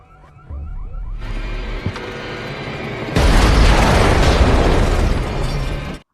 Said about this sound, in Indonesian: Ketika ingin memeriksanya dan membuka pintu, lalu tiba-tiba mobilnya meledak.